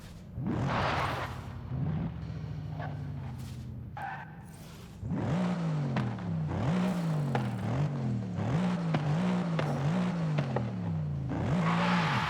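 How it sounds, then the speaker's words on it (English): A stock 603-horsepower Mercedes E63 S engine in Forza Horizon 5 revs hard through repeated rising climbs, each cut off sharply by the next shift, with crackling pops between bursts. "this car just sounds so beautiful. Just listen to these sounds and pops and bangs."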